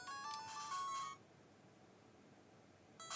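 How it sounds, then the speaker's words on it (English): A phone notification chime rings out for about a second in a quiet room, then stops, and a second chime begins just as the clip ends. "Oh, notifications too loud."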